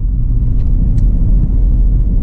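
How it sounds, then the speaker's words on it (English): A 2000 Toyota Land Cruiser with about 300,000 miles drives along, its engine and road noise forming a loud, steady low rumble heard from inside the cabin. "I'm going to go drive it an hour out into the woods now."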